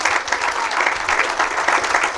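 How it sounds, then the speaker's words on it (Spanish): Church congregation clapping together during a worship celebration, a steady dense wash of applause lasting the whole moment with no voices rising above it. "Dale un aplauso al Rey de Reyes y Señor de Señores"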